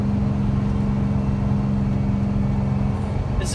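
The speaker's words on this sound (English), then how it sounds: "This is where I really listen to my engine." Big rig RV engine labouring steadily up the eastbound ascent of Eisenhower Pass, a Colorado mountain pass, a loud, constant low drone with a hum that holds level throughout, heard alone.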